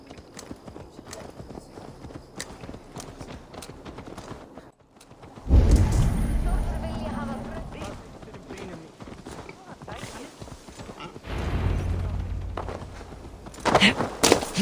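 Horse hooves clip-clop at a walk in Assassin's Creed Valhalla, a steady rhythm of moderate loudness that swells in the middle and near the end, set among game ambience with other sounds.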